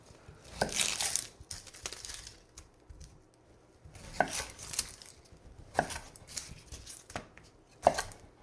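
Knife chopping vegetables into rough quarters on a cutting board for chicken stock, a few scattered bursts of close, sharp cuts separated by pauses, with no talking.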